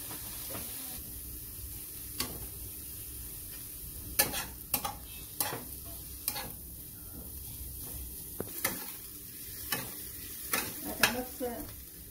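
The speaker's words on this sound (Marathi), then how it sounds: "टमाटर टाकते याच्यामध्ये आणि मस्त मिसळून आणि भाजून घेत आहे" Tomato and coconut stirred and roasted in a pan, with a faint steady sizzle under intermittent scraping strokes that grow more frequent toward the end, close and fairly quiet.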